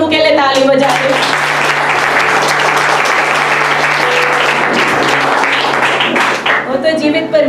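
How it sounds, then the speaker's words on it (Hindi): A church congregation gives loud, sustained applause for the Lord, a dense wash of clapping that fills the room between short bursts of voice at the start and end. "एक साथ मिल करके हम क्या प्रभु के लिए ताली बजा रहे हैं?"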